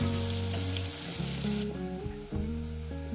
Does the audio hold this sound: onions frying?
yes